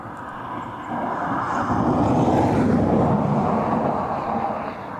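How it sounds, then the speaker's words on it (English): Qatar Airways jet departing from Dublin Airport, a broad rumbling roar that swells to a peak mid-way and then eases slightly, steady and fairly loud with no talk. "That was Qatar departing."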